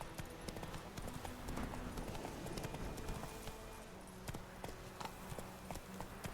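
A horse galloping in The Witcher 3, with a steady, rapid clip-clop of hooves throughout and a faint snort, all at close, even volume.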